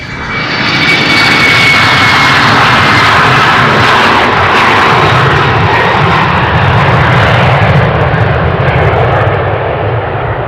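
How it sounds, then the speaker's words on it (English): A KLM Embraer jet takes off at Amsterdam Schiphol, its engines a loud, sustained broadband roar that stays strong throughout and begins fading slightly at the end, with no voices. "the takeoff of this Embraer from KLM"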